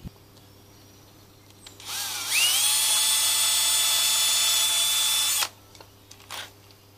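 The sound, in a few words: power drill drilling screw holes in pallet wood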